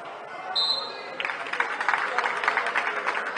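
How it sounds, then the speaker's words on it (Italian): A short referee's whistle blast, then steady clapping from spectators at a youth football match, heard close with a voice talking over it. "Applauso, il fischio dell'arbitro."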